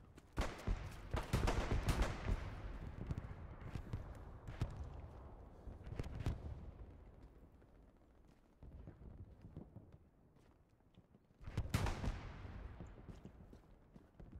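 Artillery shells crash down in Hell Let Loose on the Hurtgen Forest map, with deep booming impacts and crackling bursts of gunfire. Several heavy blasts land in clusters, loud and rumbling, with quieter lulls between them.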